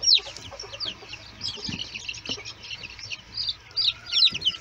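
Hen with sixteen chicks, mixed-breed birds, clucking softly amid dense high chirping and peeping from the brood, continuous and fairly close, with a few low clucks and scratches underneath.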